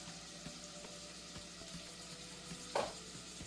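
Shrimp sizzling in a pan for lo mein, a soft steady frying hiss with faint clinks and a brief louder scrape near the end.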